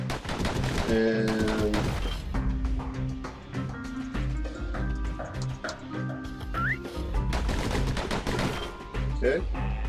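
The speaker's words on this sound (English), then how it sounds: "Those pistols could spit out rounds just as quick as you could pull the trigger." Rapid pistol gunfire rattles through the action video game Bastion in dense bursts over game music and effects, with a voice speaking briefly.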